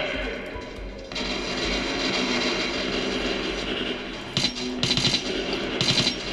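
Automatic gunfire rattles in bursts in the Metro 2033 Redux video game, sounding like a machine gun, with sharper shots toward the end and a faint voice in the background.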